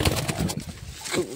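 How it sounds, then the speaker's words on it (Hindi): Pigeons at night in a rooftop coop, soft low cooing close by with faint rustling, briefly audible over a quiet background. "कबूतर"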